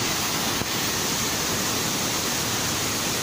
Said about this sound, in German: Da ist auch noch ein kleiner Wasserfall.